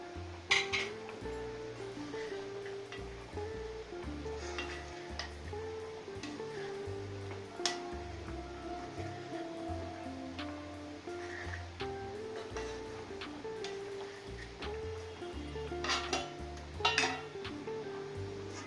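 Chicken fry biryani with coriander is stirred in a pot with a low, steady scraping and shuffling, broken by occasional sharp metallic clinks of a spoon against the rim; no voices.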